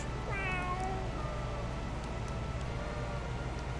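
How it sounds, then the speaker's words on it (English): An ordinary house cat meows in a Star Trek: Judgment Rites game scene, two or three clear drawn-out meows over a steady hum of background noise. "An ordinary house cat, Felis catus, a common human pet"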